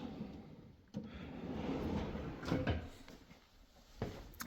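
Quiet rolling slides and soft thumps of large soft-close kitchen drawers being pulled out and eased shut, several gentle movements close by.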